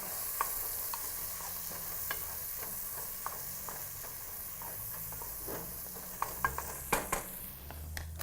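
Seasoned food, with salt, pepper and garlic, sizzles steadily in a pan as it is stirred, with soft scraping and a few sharper clinks of the utensil near the end, close and fairly quiet.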